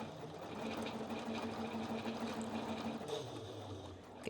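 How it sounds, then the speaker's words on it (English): A domestic sewing machine runs steadily, stitching a seam on a Cashmerette Wayland dress, its rapid whirring needle drive close and continuous before slowing and stopping near the end. "as I'm sewing this next line, I'm going to kind of stretch that work."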